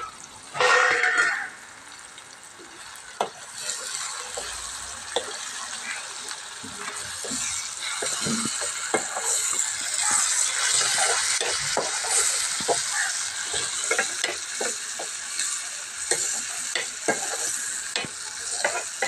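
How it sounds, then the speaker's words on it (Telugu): Tomato and onion pieces fry and get stirred in a pan, giving a continuous close sizzle with scattered scraping strokes of a utensil, and a brief louder rustle near the start. "ఇప్పుడు టమాటా ముక్కలు ఉల్లిపాయ ముక్కలు మనకు చక్కగా మగ్గిపోవాలి"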